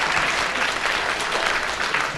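A studio audience claps in a dense, loud burst of applause at a radio panel game recording, steady for about two seconds.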